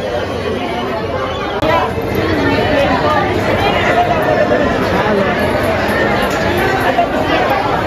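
Dense, continuous chatter of a large crowd packed in a long queue at the Shri Ganpati temple in Sukapur, a steady close hubbub of many overlapping voices throughout with no single voice standing out.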